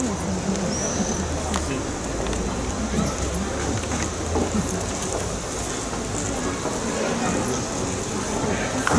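Audience applause at a poetry night, a steady dense wash of clapping from a seated crowd that holds at an even level for the whole stretch.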